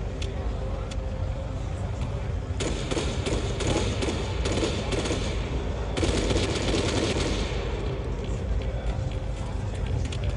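Bursts of automatic rifle fire in an Arma 3 night battle, sustained rattling volleys that start and stop, with distant thuds and a voice talking over part of the action.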